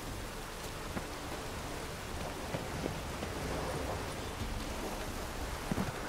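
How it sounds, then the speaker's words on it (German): Steady rain falls in the video game The Witcher 3: Wild Hunt, a continuous soft hiss of drops with occasional sharper taps, fairly quiet and even throughout with no talking. "Sieht nach Regen aus."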